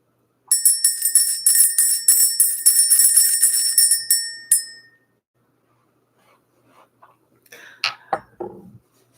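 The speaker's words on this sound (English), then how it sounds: "We're going to go ahead and ring the bell." A small ringing bell, used in a ritual to clear energy, chimes in rapid repeated strokes for about four seconds and then fades out. A few faint, brief sounds follow later.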